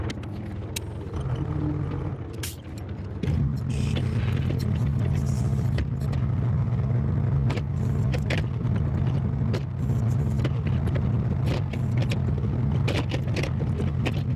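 A backhoe digging a trench for a garlic bed on an off-grid farm in BC: a steady low diesel engine drone runs throughout, close and constant, with scraping clunks and clicks from the machine over it.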